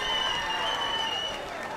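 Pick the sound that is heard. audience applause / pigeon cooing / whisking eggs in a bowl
audience applause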